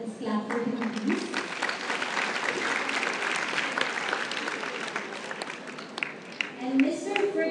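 An audience applauds steadily after a guest is called up at an investment seminar on risk and return, the clapping dense and continuous, with a few low tones and a voice briefly over it at the start and end.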